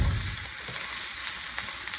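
Chopped red and yellow bell peppers sauté in oil in a frying pan, producing a continuous close sizzle and hiss with faint stirring scrapes. No talking.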